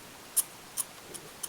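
Scissors trimming a bunch of longish white fibre during fly tying, four small crisp snips spaced about every third to half second, close and quiet with no talking.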